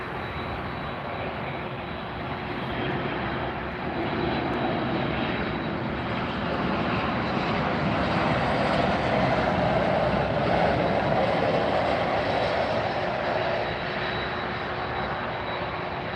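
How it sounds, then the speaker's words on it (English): A Cayman Airlines Boeing 737 at Miami airport on a Friday night, its engines making a steady, fairly loud broadband roar that swells slightly midway and holds for the whole stretch, with no talk. "Here is the Cayman Airlines 737."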